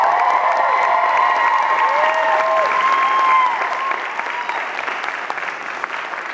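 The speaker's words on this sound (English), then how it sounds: "Let's give them all an applause." Audience applause at a Covert Affairs Q&A panel at Fan Expo 2013, loud dense clapping from a big crowd with scattered cheers and whoops, holding strong and then easing slightly toward the end.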